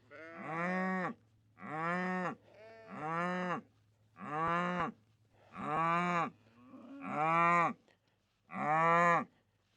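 Cattle on a farm moo loudly and close by, seven long drawn-out calls in a steady rhythm with short pauses between them and no talking.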